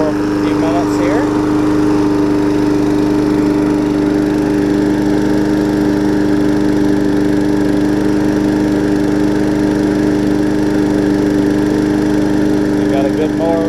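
A rally lawn mower, just fitted with a swapped engine, runs at a steady idle close by, a loud, constant droning hum with faint rattles on top and no change in pace for the whole stretch.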